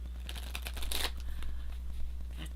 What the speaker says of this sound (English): I know you can hear me shuffling.